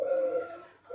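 Leopard silver spotted dove (tekukur) cooing close and clear, a steady low tonal coo held for most of the second and resuming at the end, with no talk over it.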